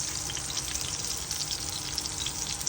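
Turmeric- and salt-coated eggplant slices fry in mustard oil in a pan, giving a steady, moderately quiet sizzle with fine crackling throughout.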